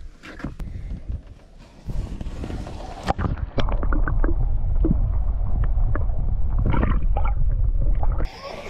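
Boat motor running on open water during a panfishing trip, a steady low rumble that grows louder and more constant midway, mixed with wind buffeting and occasional clunks and splashes nearby.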